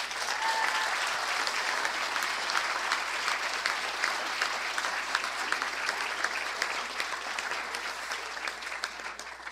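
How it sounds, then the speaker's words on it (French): An audience at a university graduation ceremony in Gatineau applauds steadily, a dense, sustained wash of many hands clapping at moderate volume without a break. "On peut les applaudir, s'il vous plaît."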